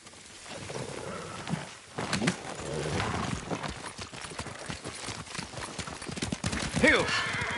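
Horse hooves clopping at a riding pace in the video game Ghost of Tsushima, a steady rhythmic patter of hoofbeats under spoken dialogue.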